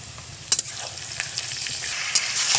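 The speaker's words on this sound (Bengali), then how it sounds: "দিয়ে মাংসটাকে ভেজে নেব।" Meat frying in hot oil after browned onions for a biryani, with a steady close sizzle broken by a few sharp crackles and stirring scrapes.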